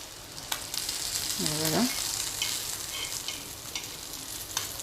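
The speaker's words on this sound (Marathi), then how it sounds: "आता बाकीचे पण मी अशाच प्रकारे फिश भाजून घेते" Surmai fish pieces shallow-fry in oil in a pan, with a continuous hiss and crackle broken by a few sharp pops, and a short vocal sound partway through.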